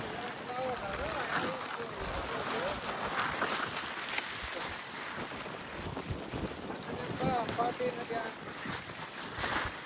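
Strong wind roars and buffets the microphone continuously, with people talking underneath the gusts.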